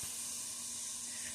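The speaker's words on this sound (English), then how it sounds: "so the chicken is frying up" Continuous loud sizzling hiss of chicken frying in a hot pan, steady and close, with no talking.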